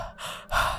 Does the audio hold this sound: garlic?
no